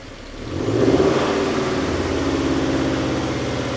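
A car engine rises from a low idle to a steady, raised hold of roughly 2,000 RPM, a loud mid-pitched hum sustained for several seconds in a garage without any talk.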